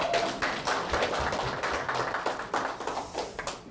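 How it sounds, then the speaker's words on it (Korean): Crowd clapping at a Democratic Party candidates' speech event for the Yongin mayoral primary: dense, steady broadband patter of many hands at moderate distance, sustained throughout with no voices. "여러분께도 큰 박수를 한번 보내드리고 싶습니다. 박수 한번 부탁드립니다."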